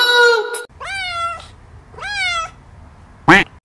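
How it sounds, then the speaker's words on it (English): A cartoon cat meows several times in a row, loud, clear and close, with rising-falling drawn-out calls separated by short pauses and a final sharper cry. "C for cat."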